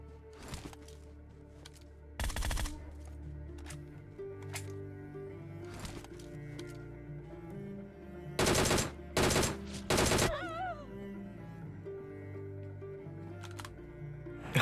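Bursts of automatic gunfire from PUBG Mobile, a few short loud volleys of rapid shots spread across a steady game soundscape with faint background tones, no talking.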